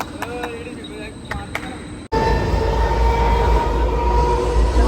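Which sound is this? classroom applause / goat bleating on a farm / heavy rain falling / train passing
train passing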